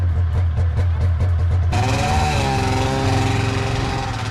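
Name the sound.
two-stroke engine running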